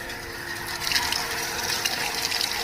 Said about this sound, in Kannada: ಈಗ ನೋಡಿ, ಟ್ಯಾಂಕರ್ಗೆ ನೀರು ತುಂಬ್ತಾ ಇದೆ.